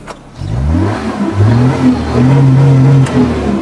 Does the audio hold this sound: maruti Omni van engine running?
yes